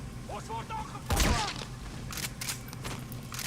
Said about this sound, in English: Shoot off his helmet.